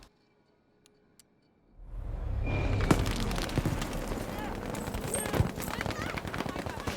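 After a near-silent start with a few faint clicks, the Ribeyrolles rifle in Battlefield V opens up in sustained rapid automatic fire, a loud dense stream of close shots with sharp cracks punctuating the burst.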